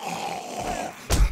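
A big zombie in the 7 Days to Die video game growls in a short, rough, throaty snarl, close and moderately loud, ending in a sudden low thud.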